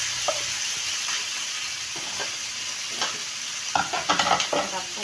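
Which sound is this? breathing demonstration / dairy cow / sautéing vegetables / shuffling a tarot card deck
sautéing vegetables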